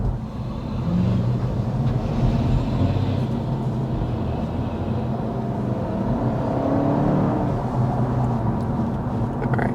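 Steady, moderate hum of a 2025 Honda Civic Hybrid running underway, with a low drone and mild swells in engine and road noise over about ten seconds and no talk.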